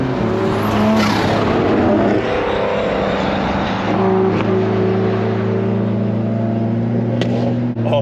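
A car at a racetrack drones loud and close with a steady engine note, its exhaust giving occasional sharp pops.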